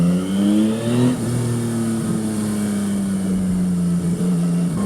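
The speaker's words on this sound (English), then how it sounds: "And the exhaust on this is just amazing." A Yamaha XSR900 GP motorcycle's exhaust revs loudly and close up, the engine note rising and then holding at a strong steady growl with no talk over it.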